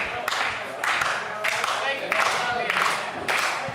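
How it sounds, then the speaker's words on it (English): A wrestling crowd at the RWA Chop Shop in Providence claps in steady rhythmic bursts, a dense sellout audience heard fairly close, with some voices mixed into the clapping. "Listen to this crowd at the Chop Shop."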